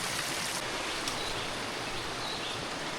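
A brook flows with a steady broadband rush of water, fairly faint and continuous throughout, with no voices.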